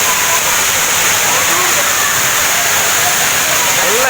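Aintharuvi waterfall near Tenmala, Kerala, gushing hard in a loud, steady, broadband roar of falling water, close by and continuous throughout.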